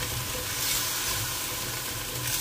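A pan of menudo meat and potatoes fizzes with a dense, steady sizzle right after water goes in, close and loud, with no voices.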